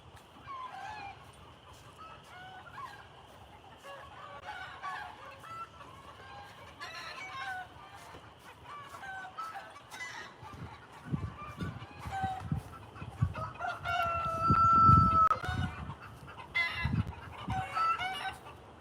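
Backyard chickens clucking in agitated bursts with a rooster crowing, fairly close outdoors, the flock's calls rising and growing louder toward the end.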